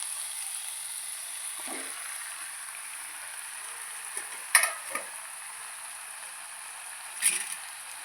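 Chicken frying in a pan for chicken curry, a faint steady sizzle with a few soft stirring clinks and scrapes.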